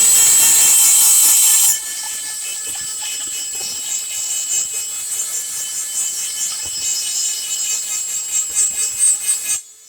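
A high-pitched rotary tool drill bit whines steadily, grinding into bamboo with a harsh, buzzing edge that wavers as pressure shifts, loud and close for nearly the whole stretch.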